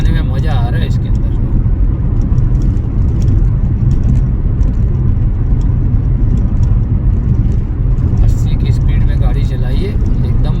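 A car driving through a long road tunnel on the Shirdi to Kasara Ghat route, with a loud, steady, enclosed roar of engine and road noise echoing continuously throughout.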